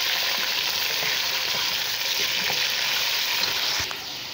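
Bone-in beef sizzles and fries in a pot for spicy biryani, a steady loud hiss with scattered scraping stir sounds throughout, easing slightly at the end.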